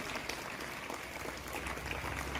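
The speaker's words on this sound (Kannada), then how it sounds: "ಅವ್ರಿಗೆ ಒಂದು ಜೋರಾದ ಚಪ್ಪಾಳೆಯನ್ನ ಕೊಡುವಂಥದ್ದು" Applause from the audience at a school Children's Day event in Walaki, a steady dense patter of clapping filling the hall, moderately loud throughout with no break.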